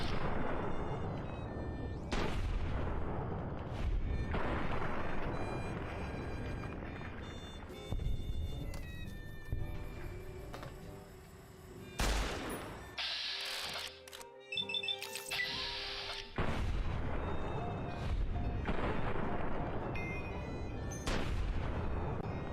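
Gunfire from Fallout New Vegas, Old World Blues on survival difficulty, in a science-city setting: repeated loud game shots and booming blasts throughout, dense and near, with brief quieter gaps between bursts.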